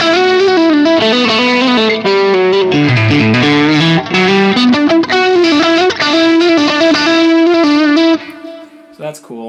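Distorted electric guitar played through a Fractal Axe FX II XL high-gain patch, with chugging riffs and sustained notes ringing loud and close, the chords drenched in effects and ending on a fading held tone.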